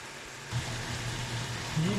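Salted meat fries in a pan in a Pakistani home kitchen, making a steady, rain-like hiss and crackle that swells after a quieter start, with a voice speaking over it.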